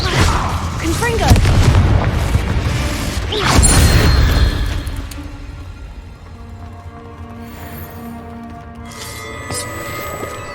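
A Confringo fire spell explodes in the Hogwarts Legacy video game, with two loud booming bursts in the first few seconds that fade into a quieter creaking, rumbling tail.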